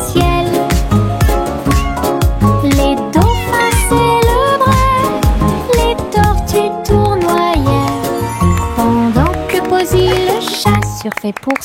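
A voice sings meowing, cat-like notes in a children's song over a busy, loud musical backing with steady beats throughout.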